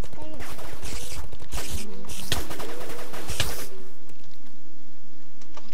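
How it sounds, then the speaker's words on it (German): Rapid gunfire in a modded Minecraft game as turrets shoot at mobs, a loud, dense stream of repeated shots and impacts that cuts off near the end, with a voice talking over it. "Wie ihr seht, sie schießen auf Mobs."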